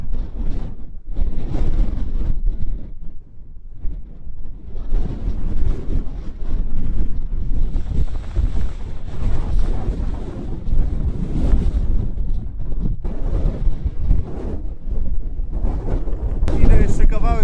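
Strong wind sweeps an Atlantic clifftop in Donegal, a constant heavy roar buffeting the microphone with surging gusts throughout, while someone speaks at times beneath it.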